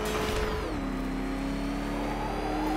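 The Batmobile's engine in Batman: Arkham Knight drones steadily and loudly throughout, its pitch sliding lower early on, then holding a smooth, continuous whirring rev.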